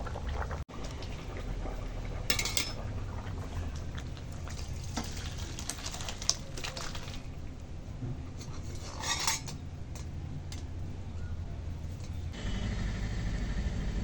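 Rohu fish curry cooked with ridge gourd, papaya and drumsticks is tipped out of a wok, with close metallic scraping and clinking of a ladle against the pan and a soft liquid slosh running steadily throughout. No one speaks.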